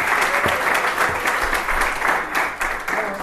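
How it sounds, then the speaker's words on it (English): Audience applause at a live comedy and conspiracy talk show, steady dense clapping from a crowd that rises and swells across a few seconds with no voices on top. "give them a round of applause real quick"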